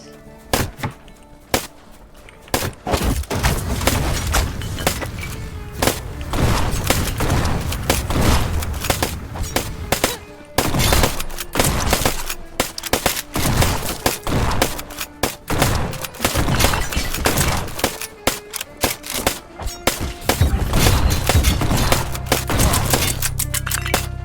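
Weapon fire in Black Skylands, with bow and hunter rifle shots and a salvo of torpedoes, crackling in dense, loud bursts and booms that nearly fill the stretch, broken by a few short pauses.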